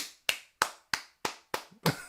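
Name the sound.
clapping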